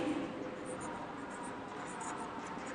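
A pen or marker writing on a paper chart in a quiet room: faint, continuous scratching and soft strokes at low volume, with no speech.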